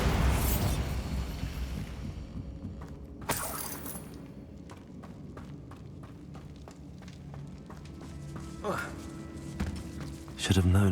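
A Bombarda explosion spell in Hogwarts Legacy bursts with a sharp blast, followed by clattering debris and further impacts, with another loud crack near the end and a voice speaking briefly.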